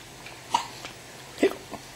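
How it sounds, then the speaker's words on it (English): Two short, sharp hiccups from a child, one near the half-second mark and a stronger one near the end, close and alone over quiet background. "Hiccup."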